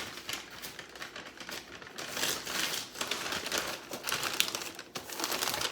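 Gift wrapping paper crinkles and rustles steadily up close as it is folded, with irregular crisp crackles and soft taps continuing throughout.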